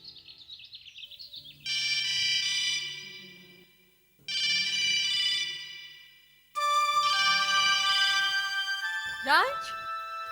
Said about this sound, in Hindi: राज, राज, ये मोबाइल किसका है?